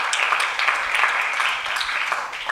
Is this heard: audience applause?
yes